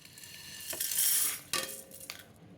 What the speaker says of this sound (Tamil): கடாயில் ஒன்றாவே போட்டு இதை வறுத்து எடுத்துடலாம்.